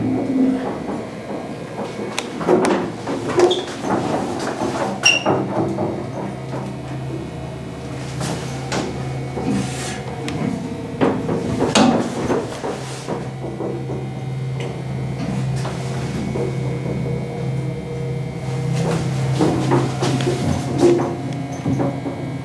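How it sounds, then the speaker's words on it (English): A Westbrook service elevator at the Omni Homestead in Hot Springs, Virginia, its door sliding shut with knocks and clunks, followed by a steady low mechanical hum of the car running, with scattered ticks and thumps throughout. "Door closes when we push the button."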